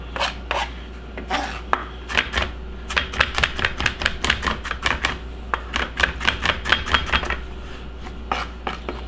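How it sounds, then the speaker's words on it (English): A knife minces onions on a cutting board while a fish sandwich is being made, giving quick, steady chopping taps up close with no talking. "I'm just going to mince my onions"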